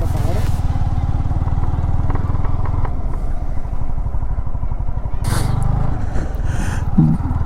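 A motorcycle engine idles and revs with a rough low throb at a hill in Purulia, cutting out partway and returning, while people talk over it.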